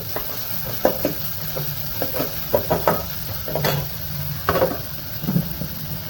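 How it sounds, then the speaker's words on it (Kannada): Capsicum fries in ghee in a pan, with irregular scraping and stirring knocks over a soft background sizzle, close and fairly loud. "ದಪ್ಪ ಮೆಣಸಿನ್ಕಾಯಿ, ಕ್ಯಾಪ್ಸಿಕಮ್ ಹಾಕೊಳ್ಳೋಣ. ಇದನ್ನ ನೀಟಾಗಿ ಸ್ವಲ್ಪ ಫ್ರೈ ಮಾಡ್ಕೊಳ್ಳೋಣ."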